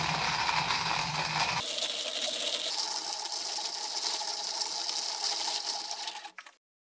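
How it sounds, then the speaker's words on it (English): A hand coffee grinder crunches coffee beans with a continuous, close rasping whir and a faint ratcheting texture, shifting tone early on, then slowing and stopping near the end. "And we grind the beans like so."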